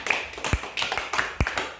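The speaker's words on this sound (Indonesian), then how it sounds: "Tepuk tangan dulu Nak buat kita semua ya." A few sharp hand claps from children in a classroom, scattered and uneven across two seconds, close and moderately loud with no talk over them.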